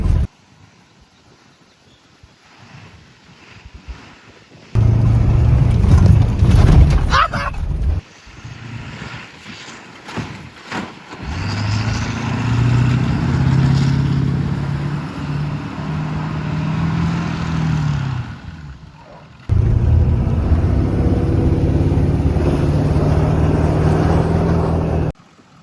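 An old, abandoned diesel truck bought for $500 drives over a bumpy field, its engine a low droning rumble that cuts in and out in long sections, mixed with wind buffeting and rattling jolts.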